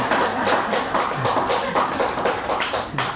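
A lecture audience claps in a steady, dense burst, many hands close together at fairly loud level, continuing evenly throughout with no talk over it.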